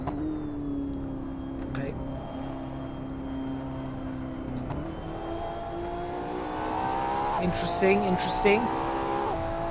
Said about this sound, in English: Although it's an astounding machine, astounding machine.